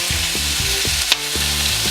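Hot oil sizzles and crackles continuously as chicken fries in a pan, with one sharp pop standing out near the middle.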